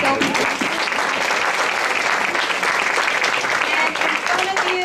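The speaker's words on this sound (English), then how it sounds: "Give them a big round of applause." Sustained crowd applause for the Temple City High School Pep Band at an outdoor school rally, dense steady clapping throughout with some voices and cheers mixed in.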